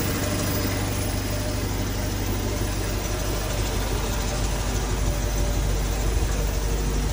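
A 1981 Toyota SR5 pickup with a 22R engine and Weber carburetor idles steadily and close, a dense, even rumble that holds for several seconds without any talking.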